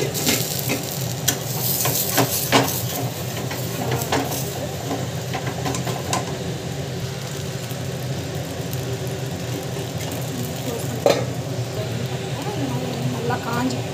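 Food frying in oil in a covered pan while a healthy protein-rich breakfast cooks; a steady broad sizzle runs throughout with occasional stirring clinks, and a voice talks over it.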